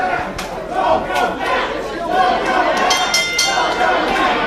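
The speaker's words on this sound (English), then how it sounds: "This crowd is chanting so loudly, I can't even hear myself." A lively wrestling crowd at a PWR Erie show chants and roars loudly and continuously, a dense wall of many voices with rhythmic shouting and occasional sharp peaks, close and filling the hall.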